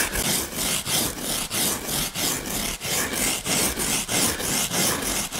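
Steady back-and-forth rasping of a hand file carving the front half of a largemouth bass skin mount form, about sixteen even strokes, close and loud with no talk.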